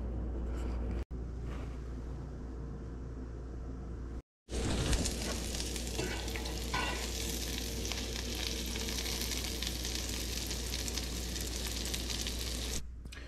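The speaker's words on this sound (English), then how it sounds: "add the asparagus. And I'm gonna let this cook for a little bit" Asparagus sizzles steadily in a hot frying pan, a dense, continuous crackle close up that runs almost without break, briefly cut by two short gaps and with no talk.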